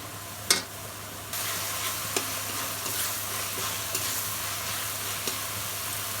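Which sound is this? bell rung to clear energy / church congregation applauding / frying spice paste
frying spice paste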